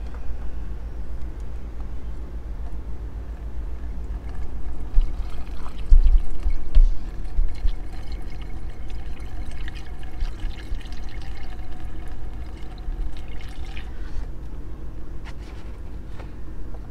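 Water poured through a funnel into lead acid RV batteries makes a soft, continuous trickle and dribble against a steady low hum, with no talking.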